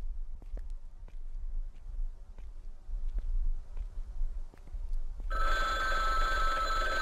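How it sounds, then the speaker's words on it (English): A telephone bell starts ringing in the horror video game Bloodwash, loud and continuous, breaking into a quiet ambience of faint ticks and patter. "Oh, phone."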